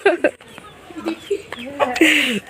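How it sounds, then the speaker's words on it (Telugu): Village chickens during the Bhogi festival cluck and squawk in short, irregular bursts near the listener, with people talking in between. "సో ఇక్కడ కోళ్ళు చూసారా ఎంత బాగా అనిపించాయో"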